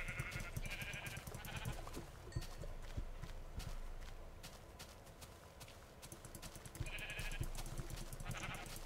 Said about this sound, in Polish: Dobra, owca.